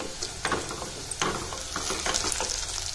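Onion and peanuts frying in a pan for moong dal khichdi, a steady close sizzle broken by a few louder crackles and scraping stirs, with no voices.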